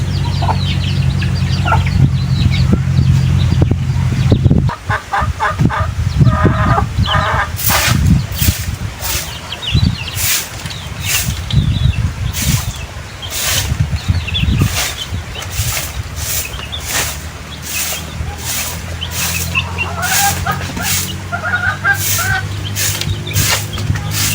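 Chickens cluck and squawk close by among rustling and scraping noises, followed by a run of sharp rhythmic taps.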